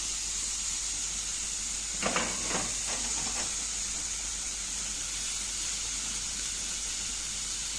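Colored bell peppers sauté with softened onion in a pan, giving a steady steamy hiss, with a brief cluster of scraping stirs near the middle.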